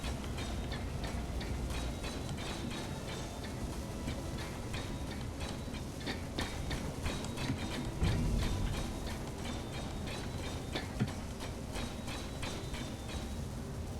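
A welder building blocks in the video game Space Engineers runs continuously with a rapid, rhythmic mechanical ticking and clatter, moderately quiet and steady, with a couple of brief louder knocks.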